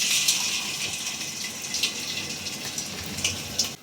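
Battered cauliflower pakoras sizzle in hot oil, a close, steady hiss of frying with small crackling bursts throughout and no talk.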